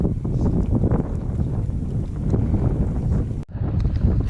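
Steady gusty wind rushes across a mountain lake in the Hoover Wilderness, a continuous broadband roar close to the microphone with a brief dropout near the end and no voices.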